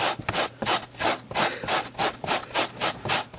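A Lilly Brush pet hair removal brush scratching over velour-type fabric in steady back-and-forth strokes, about a dozen rhythmic rasping passes, close and moderately loud with no talk.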